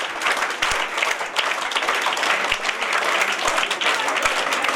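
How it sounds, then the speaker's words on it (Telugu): A school audience at a government school's Alluri Sitarama Raju birth anniversary event claps steadily and densely, a loud continuous applause with scattered sharper claps and a faint voice underneath. "అందరూ చప్పట్లతో మనము వారికి నివాళులు అర్పించాలి."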